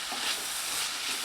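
Steady sizzling from a hot pan with soft scraping as a beans and egg stir-fry is stirred, continuous and close throughout the short moment.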